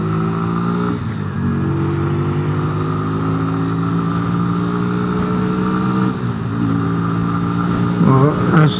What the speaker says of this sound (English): Lovely note to the exhaust